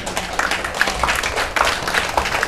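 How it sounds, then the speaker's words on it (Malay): A school audience at an exam-excellence programme claps with both hands, a dense, steady, moderately loud wash of clapping with no voices over it. "Tepuk kedua-dua belah tangan sekarang."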